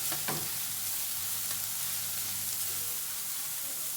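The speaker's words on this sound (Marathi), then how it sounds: "कांदा आपण चांगला परतून घ्यायचा आहे, थोडासा बदामी रंगाचा होईपर्यंत." Onion sautéing toward light brown in a cooker for mutton keema, a constant close sizzle with a couple of faint stirring knocks near the start and a low hum beneath; no speech.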